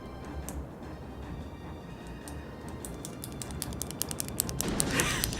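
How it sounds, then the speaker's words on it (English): A pen clicks close to the microphone in a rapid series of sharp ticks that speeds up toward the end, over a low background hum. "You're just gonna hear the pen clicking."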